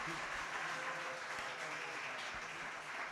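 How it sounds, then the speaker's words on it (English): Steady applause from a recital audience at a school of music winter recital, even and continuous throughout, with faint voices in the background. "Everyone give Cole a round of applause"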